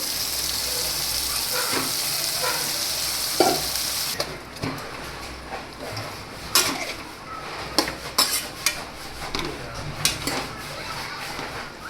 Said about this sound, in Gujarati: હવે ત્યાર પછી આપણે જે કોબી સુધારીને લીધી છે એને તેમાં એડ કરી દઈશું